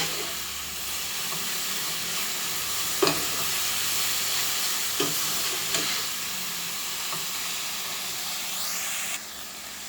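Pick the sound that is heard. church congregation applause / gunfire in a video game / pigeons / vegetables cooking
vegetables cooking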